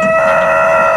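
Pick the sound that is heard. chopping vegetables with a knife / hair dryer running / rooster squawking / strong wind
rooster squawking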